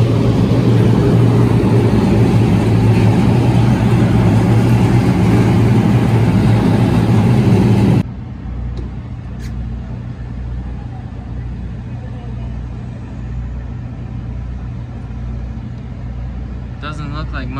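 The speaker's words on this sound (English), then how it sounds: "Alright, here we go. Cars are fired." NASCAR race cars at Talladega fire up together in a loud, dense engine roar. It cuts off abruptly partway through, leaving a lower, steady idling rumble.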